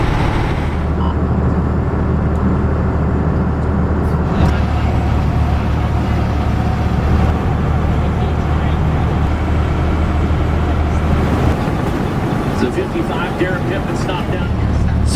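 An RV driving along a highway, a constant low engine drone and road rumble with steady tire noise filling the whole stretch, heard from inside the cabin with some talking over it.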